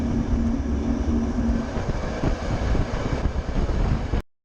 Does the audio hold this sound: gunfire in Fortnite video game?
no